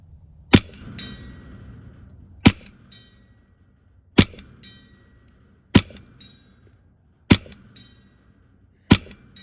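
Karma SLS air rifle firing slugs in semi-auto mode at 75 yards: six sharp, loud cracks spaced one to two seconds apart, each with a brief metallic ring after it, over a quiet background.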